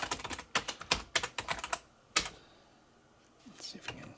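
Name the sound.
typing on a computer keyboard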